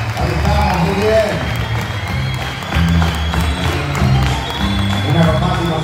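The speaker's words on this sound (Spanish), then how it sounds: "Bien fuerte el aplauso." A large convention crowd at a Comic Con in Argentina applauds and cheers loudly and steadily, with dense clapping and crowd noise filling the whole stretch and voices mixed in.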